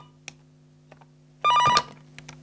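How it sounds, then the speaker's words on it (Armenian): A telephone rings at an airline ticket office in one short electronic burst in a quiet room, with faint knocks and shuffles around it. "Փոխարենը հեռախոս ազանգերը չեն լռում"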